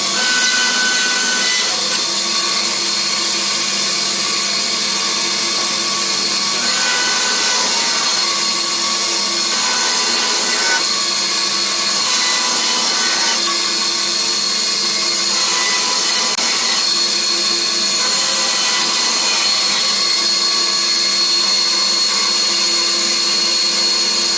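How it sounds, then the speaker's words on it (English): A bandsaw cuts wood segments for a segmented turning pattern ring, with a loud continuous motor whine and blade hum that run unbroken and close throughout. "On the bandsaw, use my micro gauge as a pen. So just take the rubbish off the end."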